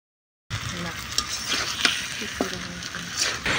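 Onions frying with spices in a pan while stirring, with steady sizzling broken by scrapes and clinks of a spatula against the metal, close and fairly loud after a brief silence.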